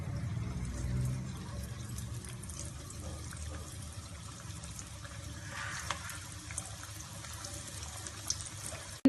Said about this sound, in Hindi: इसको डीप फ्राई कर लेंगे